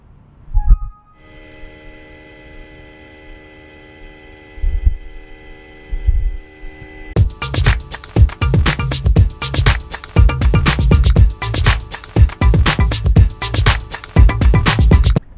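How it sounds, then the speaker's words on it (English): A ShopBot Desktop CNC spindle runs through its warm-up routine: a steady whine with stacked tonal lines holds for several seconds, then jumps to a louder, denser and rougher running tone that continues to the end. "I'll run the spindle warm-up routine one more time"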